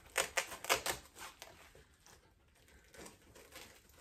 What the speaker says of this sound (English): sorry for the Velcro sound.